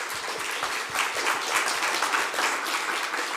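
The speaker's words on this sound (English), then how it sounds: "a great applause." Audience applause at an open-door event, a dense, steady wash of many hands clapping at moderate volume, continuing evenly throughout with no talking over it.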